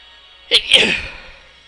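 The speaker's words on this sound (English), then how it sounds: "That was almost a sneeze, but it wasn't." A stifled sneeze, close by: a sharp nasal catch and then a muffled burst, with nothing else around it, over the video game Symphony of the Night.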